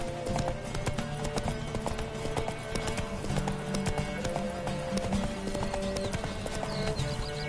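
Roach, a horse in The Witcher 3 video game, clip-clops at a steady running gait throughout, the hoof beats loud and close over continuous game ambience, with an occasional faint whinny.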